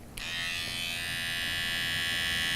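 An electric beard trimmer buzzes steadily and close up, switching on sharply and holding an even, loud whine while cutting a client's short beard across a comb in a grooming session.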